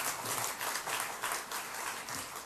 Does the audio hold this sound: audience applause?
yes